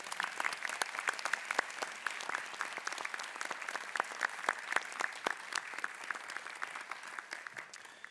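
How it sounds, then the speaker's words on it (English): Steady audience applause for awardees at a 2025 university investiture ceremony, a dense continuous patter of many hands heard from a distance at a moderate level throughout. "So maybe we can have one last round of applause for all of our awardees."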